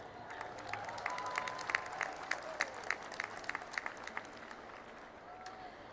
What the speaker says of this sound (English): So let's give another round of applause to your family and friends.